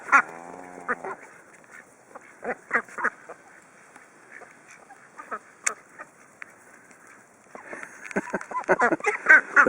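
A flock of ducks quacks in scattered, overlapping bursts, getting busier and louder toward the end, heard nearby with no talking.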